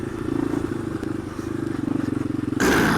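Three-wheeler ATV engine riding over terrain, heard up close with a steady pulsing putter and clattering, then a louder rough burst at the very end.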